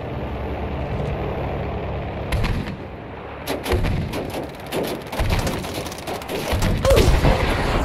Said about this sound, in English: Oh, I took out a plane with the cannon.